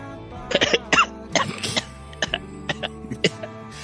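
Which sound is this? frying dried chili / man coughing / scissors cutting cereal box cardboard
man coughing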